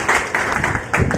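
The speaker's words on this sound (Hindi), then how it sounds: "थोड़ा जोरदार ताली हो जाए इनके लिए।" An audience at an Independence Day event applauds in short, loud bursts of clapping, close and brief.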